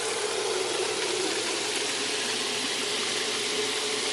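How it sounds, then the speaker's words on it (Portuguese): Outdoor shower in a rustic garden area beside a pool and deck, running at strong flow: a steady, even hiss of falling water, close and continuous with no break. "Deixa eu abrir a ducha para vocês verem"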